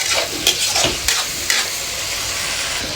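Tofu and pork sizzle steadily in a hot pan while a utensil stirs and scrapes through them in a few quick strokes, close and loud.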